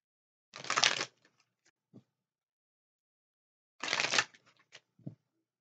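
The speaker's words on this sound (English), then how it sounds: "One more quick shuffle." A deck of playing cards is shuffled twice, each a quick close riffle burst followed by a few soft taps and settling clicks, with a quiet pause between the two shuffles.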